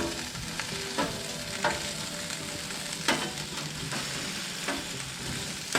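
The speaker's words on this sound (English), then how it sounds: "We're just going to cook these till the onion becomes a little translucent." Onions fry and sizzle in a pan for a Philly cheese steak, with a steady crackling hiss broken by a few louder scraping stirs. No one speaks.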